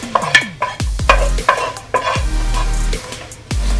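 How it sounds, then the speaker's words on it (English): Bacon crackles in a wok while a utensil stirs it. Loud metallic scrapes and knocks land at irregular intervals over a constant sizzle, close up, with no voices. "the bacon is crispy. You want to take it out of the wok"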